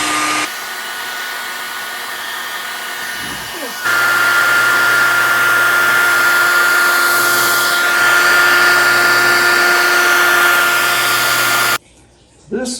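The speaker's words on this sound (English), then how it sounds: "And we'll just take a hairdryer, turn it on, and heat shrink that tubing down around it." A handheld hair dryer runs steadily while heat-shrinking tubing onto an eyeglass frame, a loud continuous whoosh and motor whine that steps up to a higher setting partway through and cuts off near the end.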